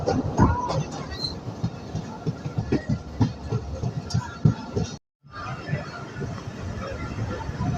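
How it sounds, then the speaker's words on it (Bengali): A passenger train pulls into Boalmari station in Bangladesh, a steady rumble of rail cars with crowd chatter and people talking throughout, briefly cutting out near the end. "ট্রেন বলমারি পৌঁছে গেল"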